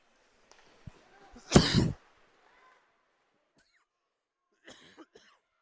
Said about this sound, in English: sincere apologies for the cough there